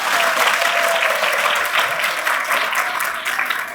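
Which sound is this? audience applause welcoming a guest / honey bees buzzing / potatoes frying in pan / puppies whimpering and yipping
audience applause welcoming a guest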